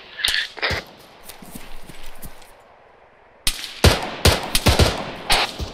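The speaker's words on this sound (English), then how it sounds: "AK fire close." AK rifle fire in the ARMA 3 combat game, loud and close: a few quick shots at the start, a quieter pause, then a sharp burst of rapid cracks in the second half. No one speaks.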